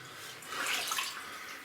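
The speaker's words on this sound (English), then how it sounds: "Yep, lots of water here." Water rushing and splashing through an old abandoned mine tunnel at Anyox, a brief soft wash of flow that rises slightly in the middle and then settles, moderately near, with no voices.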